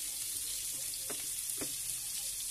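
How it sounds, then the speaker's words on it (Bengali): Two large whole onions frying in hot oil in a kadai with cumin and bay leaf tempering, a steady close hiss and sizzle with a couple of soft stirring clicks. "এবার আমি এই তেলের ভেতরে দুটো বড় গোটা পেঁয়াজ কেটে দিলাম।"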